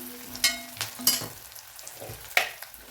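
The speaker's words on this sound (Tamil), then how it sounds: "ஆனியன் நல்லா வதங்கிடுச்சு. இந்த ஸ்டேஜில் கருவேப்பிலை கொஞ்சம் போட்டுக்கிறேன். வதக்கிட்டுங்க." Onions and curry leaves sautéing with masala in a pan for a potato gravy, with soft sizzling and intermittent stirring scrapes and clatters, close and moderately quiet.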